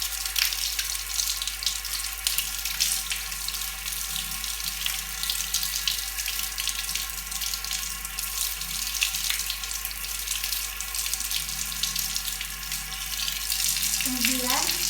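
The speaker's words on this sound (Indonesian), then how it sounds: "Setelah itu membilas menggunakan air dari ujung jari hingga ke siku." A tap runs steadily while hands and forearms are rinsed from fingertips to elbows during a clinical handwashing drill, a continuous close splashing hiss with faint shifts as the hands move through the stream.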